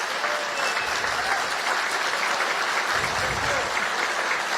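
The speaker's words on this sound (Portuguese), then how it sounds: "eu tenho que pedir uma salva de palmas para o reitor da nossa querida Unicinos" A crowd applauds in honour of the rector of Unisinos during a speech announcing aid measures for Rio Grande do Sul, with dense, steady clapping throughout and two brief low swells of crowd noise.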